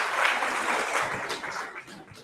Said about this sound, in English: Give Hetty another round of applause.